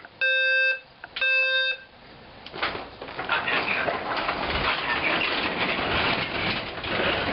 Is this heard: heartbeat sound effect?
no